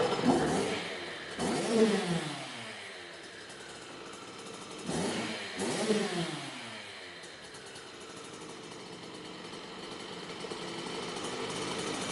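A Kawasaki KX65 dirt bike, its two-stroke top end freshly rebuilt, blips its throttle in two short revs and then settles into a steady, low idle close by.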